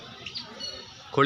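A hen-like bird at a zoo gives a short squawking call at the end, with a faint chirp earlier over quiet background noise.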